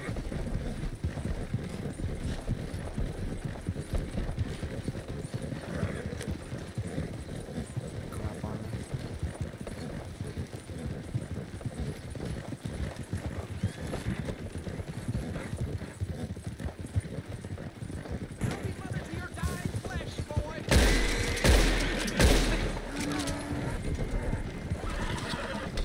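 Horse hooves clip-clop steadily throughout while a horse neighs in the game Red Dead Online, and a person talks over the scene; a louder burst of noise appears near the end.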